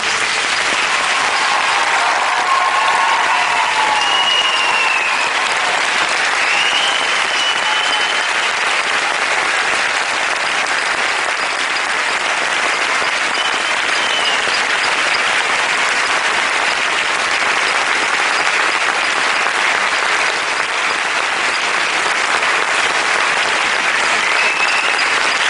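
Sustained, dense applause from a large audience at a Université de Montréal graduation ceremony fills the hall, loud and steady throughout with no letup.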